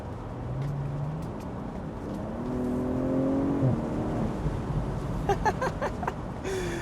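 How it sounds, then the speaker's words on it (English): A car with an XHP-tuned gearbox is driven past, its engine rising through gear changes with a steady whir before fading, followed by brief clicks and rustles. "we are gonna drive it, showcase you how the car sounds"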